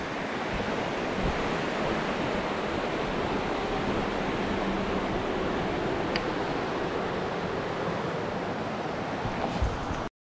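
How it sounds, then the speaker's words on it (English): River water rushes over rocks in a trout stream near Cherokee, a dense, steady roar of broadband noise that stays constant and close throughout, with no voices. "this smooth water smooths out after going through all over these rocks"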